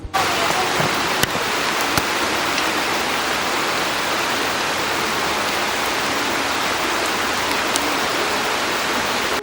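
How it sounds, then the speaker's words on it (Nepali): Steady rain pours through a forest, a dense, even wash of drops on leaves and ground that stays close and loud throughout, with a few sharper drips standing out. "पानी पर्छ तप तप पानी पर्छ तप तप"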